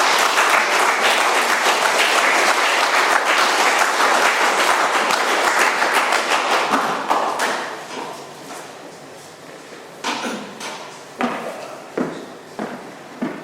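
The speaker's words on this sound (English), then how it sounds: "Let's give Frank another round of applause." Audience at an AA meeting applauds a speaker after his talk, with loud sustained clapping that fades after about seven seconds into a few scattered claps and thumps.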